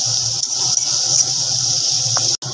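Mourola fish curry with turmeric sizzles in a pan as it is stirred, a steady close hiss running unbroken with faint scrapes, briefly cut off near the end.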